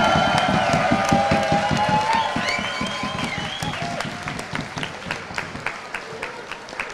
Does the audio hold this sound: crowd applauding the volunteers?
yes